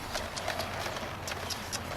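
Horse hooves clopping in a quick, regular beat on firm ground during riding training, several sharp hits per second, fairly close and steady throughout.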